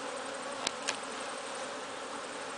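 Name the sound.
honey bees buzzing at an open beehive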